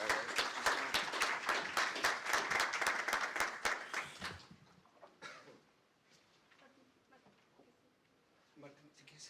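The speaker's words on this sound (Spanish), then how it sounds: "Un aplauso." An audience at a meeting applauds a presenter with brisk, rhythmic clapping for about four seconds. It then cuts off abruptly, and quieter talking follows.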